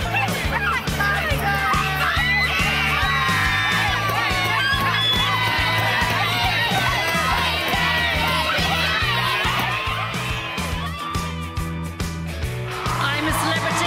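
A crowd at a red carpet event cheering, whooping and screaming continuously, loud and dense with excited voices layered over background music.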